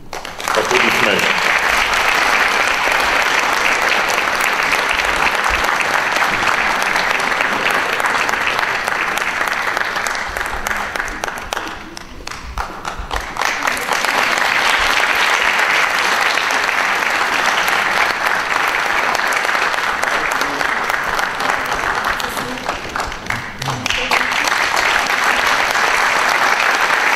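Sustained applause from an opera gala audience greets a third-prize winner at a laureates' concert of an international opera competition, loud and dense, easing briefly around the midpoint before swelling again.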